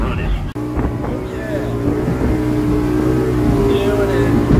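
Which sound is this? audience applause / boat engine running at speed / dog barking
boat engine running at speed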